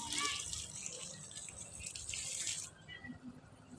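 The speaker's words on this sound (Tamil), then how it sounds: "பூச்செடிக்கு தண்ணி ஊற்றுறேன்." Water pours onto flowering plants in a steady, soft gush that stops abruptly near the end, leaving faint background quiet.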